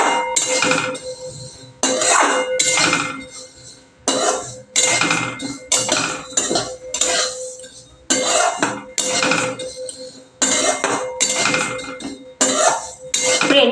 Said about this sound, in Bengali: সিমুইটা আমি আগে ভালো করে ভেজে নিই।